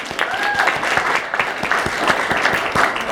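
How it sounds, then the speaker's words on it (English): A conference audience gives a round of applause for a speaker named Bill, brisk dense clapping that fills the room steadily, with a faint whistle early on and no speech over it. "Round of applause for Bill."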